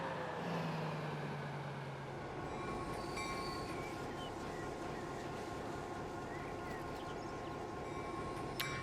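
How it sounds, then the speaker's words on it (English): Train rolling past in the Transport Fever 2 simulation game, a steady continuous rumble of wheels and carriages held at low level throughout, with no voices over it. "There's the other train we just purchased in front of us actually."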